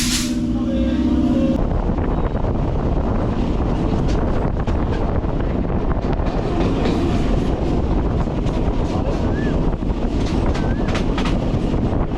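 A train departing from a station and running between Bongaon and Krishnanagar rumbles steadily along the rails, a loud continuous roar with wind buffeting the microphone and faint rhythmic clatter throughout.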